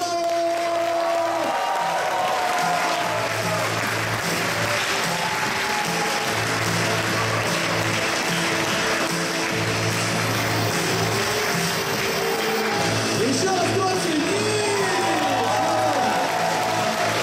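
Applause and cheering from a large esports arena crowd at a StarLadder tournament awards ceremony, honoring the silver-medal team after a grand final; dense, sustained clapping fills the whole stretch, with scattered shouts rising toward the end.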